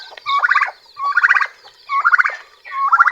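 A turkey gobbles four times in quick succession on a small farm, each a loud rapid warbling burst, close by and clear against silence.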